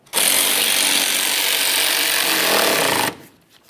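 A power tool tightens a 13mm mounting bolt on a 2007-2017 Jeep Patriot washer reservoir: a single close, loud, continuous buzzing whir lasting about three seconds, then cutting off abruptly.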